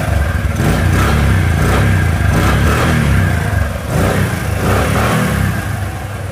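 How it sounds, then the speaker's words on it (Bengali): A 2018 Bajaj CT 100 motorcycle engine revved hard on free throttle, loud and close, its exhaust roar rising and falling in sustained surges with a faint timing-chain rattle beneath and no voices. "সাউন্ড কন্ডিশন কিন্তু ভালো আছে, হালকা একটু টাইমিং চেনের সাউন্ড আছে"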